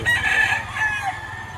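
A rooster crows once, loud and close, at a poultry market in Lipa, Batangas. The call is a short ringing cock-a-doodle-doo with no voices over it.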